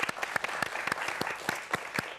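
Scattered audience clapping after a lecture on the science behind magic tricks, individual claps distinct and fairly close, moderately quiet and brief.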